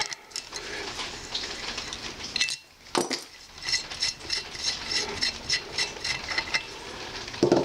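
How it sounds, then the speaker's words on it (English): A spark plug is worked out of an NSU Quickly TT/S2 three-speed moped engine under restoration, producing close metallic scraping and rasping with small clinks. "The thing to do now is to take out the plug, which I've loosened already, so that's going to come out."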